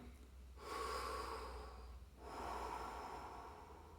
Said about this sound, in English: practice an in and out breath with no breath holding in the middle